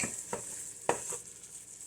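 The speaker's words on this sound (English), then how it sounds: "This pot is sizzling away." Steady sizzling from a pot of spicy winter stew with jalapeno, with a few soft stirring clinks and taps, close and continuous, no voices.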